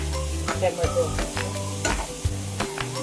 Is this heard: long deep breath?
no